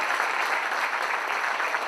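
Steady crowd applause at a political education congress in Posadas, a brief burst of many hands clapping evenly throughout.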